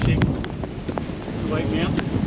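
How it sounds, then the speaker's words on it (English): Gusty squall wind of about 30 knots buffets a sailboat in rain, a continuous rough roar with wind noise on the microphone and scattered spatters and knocks. "Quite a squall, 30 knots of wind."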